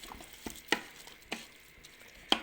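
Paella ingredients with tomato pulp stirred together in a pan, a few sparse scraping clicks of a utensil against the pan over a faint, quiet background.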